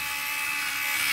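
A high-torque battery-powered motor runs with a steady, loud high-pitched whine and a constant tonal hum, close and continuous throughout.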